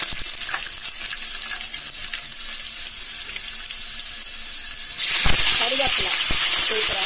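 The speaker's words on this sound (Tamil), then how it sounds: "பத்து பல்லு பூண்டு அதில் சேர்க்குறேன்" Garlic cloves frying in hot oil with popped mustard seeds for a Tamil dried fish curry, a steady close sizzle that jumps louder near the end as more goes into the pan, with scattered stirring clicks.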